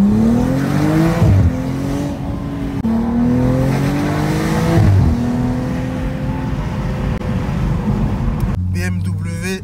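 A BMW 135i F20 with its six-cylinder engine revving while driving, windows open, the note climbing and dropping through repeated pulls and shifts, loud and close, with a voice talking over it.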